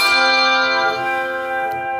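A handbell's bright ringing tone sustains and slowly fades after a strike, clear and close, with no voices over it.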